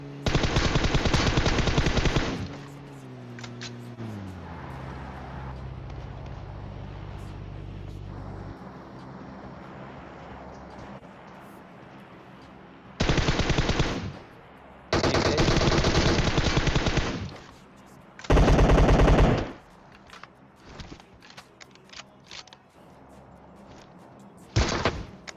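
Bursts of automatic gunfire from a PUBG Mobile match crackle loud and near in several separate volleys, with quieter in-game mechanical and engine-like sounds in between.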